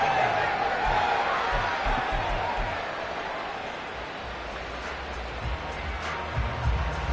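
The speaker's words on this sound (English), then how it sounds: "How about some applause for the defense there?" A large American football stadium crowd roars and cheers continuously, with a dense wash of noise and scattered whoops, fading slightly then swelling again.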